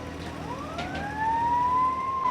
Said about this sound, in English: It's a weird spot to turn the siren on.